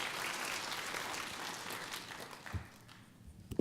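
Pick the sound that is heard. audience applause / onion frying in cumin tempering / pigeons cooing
audience applause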